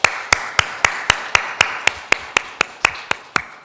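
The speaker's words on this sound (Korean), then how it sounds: "이들을 위해서 감사의 박수 한번 하겠습니다" At a Sunday church service, the congregation applauds in thanks with a short run of sharp, evenly spaced claps in a steady rhythm, close and fairly quiet, with no talking.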